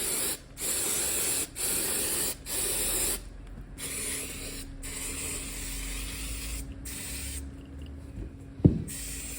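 An aerosol spray can hisses in short repeated bursts while painting BMW E46 brake carrier brackets, followed by a longer steady spray and a sharp clack near the end.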